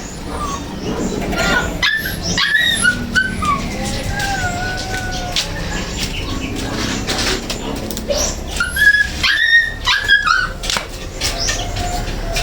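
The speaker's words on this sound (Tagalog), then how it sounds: "Ingay ng aming tuta." A pet puppy named Yasi whimpers and yips again and again, thin high cries rising and falling close by under a steady background hum, with someone speaking to it in between.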